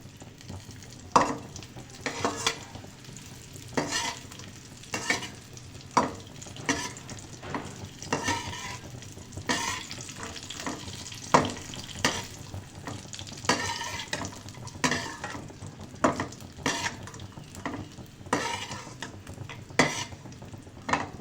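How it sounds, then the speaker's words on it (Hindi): Dry fruits such as raisins, coconut and almonds roasting in ghee crackle softly while a spoon scrapes and clinks against the pan in steady, repeated strokes. "घी के अंदर सबसे पहले आपने ड्राई फ्रूट को रोस्ट कर लेना है"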